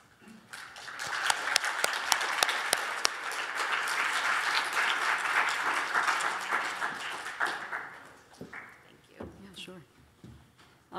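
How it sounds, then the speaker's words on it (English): An audience at a Holocaust education talk applauds two guests, a broad wash of clapping that swells, holds and then fades away, followed by scattered voices and shuffling. "first so that we can applaud them"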